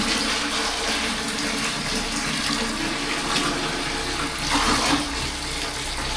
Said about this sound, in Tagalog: Meron po tayong tubig na lumalabas para di po tayo mapagod.